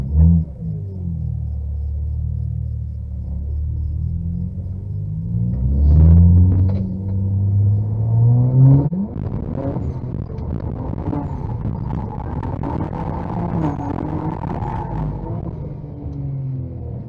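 A 500 hp all-wheel-drive BMW's engine rumbles loud and close in a burnout attempt, climbing through deep revving swells that roughen into a harsher strained roar for the rest of the run. There is no talk.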